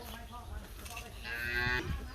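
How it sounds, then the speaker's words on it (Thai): Farm cattle lowing nearby: a single drawn-out, moderately loud moo swells in the second half over a soft outdoor background. "เลี้ยงวัวด้วยครับ"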